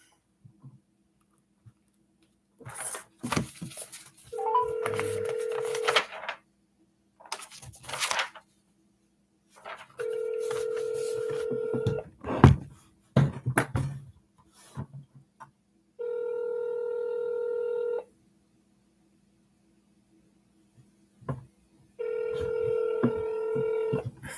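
A phone call to a Canadian space agency: short bursts of dialing tones, then a run of long, steady ring tones with silent pauses between them, clear and up close.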